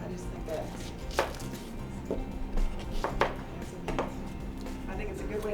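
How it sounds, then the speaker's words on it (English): A knife chops onion on a cutting board, giving a series of irregular sharp taps at close range over faint kitchen background noise. "cut up some onion here to put with it"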